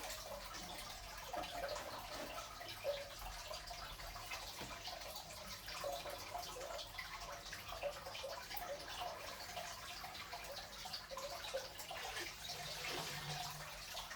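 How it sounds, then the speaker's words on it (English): Reef tank water drains out through a hose as a faint, steady trickle and gurgle with soft dripping, continuous and quiet throughout, with no one talking. "pinch the hose, let the top of the water go out"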